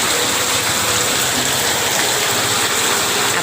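Heavy rain pounds a metal roof sheet that is leaking water during a flood, a dense, loud, unbroken roar of hiss and spatter that holds steady throughout with no voices.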